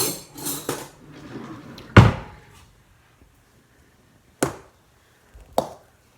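Butter being mixed into hot potatoes for lefse, heard as a few sharp, separate knocks and clunks of a utensil against the bowl, with quiet gaps between them.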